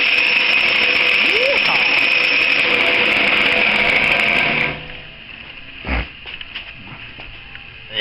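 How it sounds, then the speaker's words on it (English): A homemade go-kart's small engine runs with a loud, steady buzzing drone, then cuts out abruptly partway through, followed by a single thump from the Bendix starter gear and faint mechanical rattles. "the Bendix just kicks in and out, just like it normally would"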